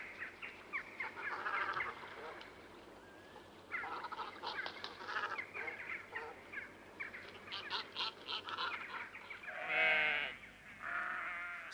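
A flock of sheep bleats repeatedly, overlapping calls near and far, with a louder bleat close by toward the end; no talking.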